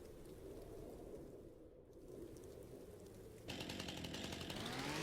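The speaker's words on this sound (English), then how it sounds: "Armed with my chainsaw, I stormed right back into the deep snow and started taking down tree after tree" A chainsaw in the Farming Simulator 25 video game fells trees in deep snow, its buzzing whine kicking in partway through over a low background rumble and holding steady to the end.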